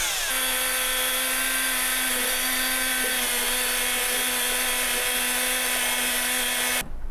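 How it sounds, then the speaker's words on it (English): An electric hand mixer whirs steadily while blending chimichurri sauce, a loud, even motor whine held close for several seconds before it cuts off abruptly near the end. "I'm going to go ahead and use a hand mixer to do this."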